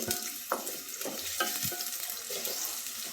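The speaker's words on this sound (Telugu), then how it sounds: "నూనె బాగా కాగిన చూడండి. ఇప్పుడు ఉల్లిగడ్డ ముక్కలు వేసుకుంటున్నానండి. ఇప్పుడు బాగా కలుపుకుందామండి." Onion pieces sizzle in well-heated oil for a chicken curry while a utensil stirs them, giving a steady close hiss broken by several distinct scraping strokes; no one speaks.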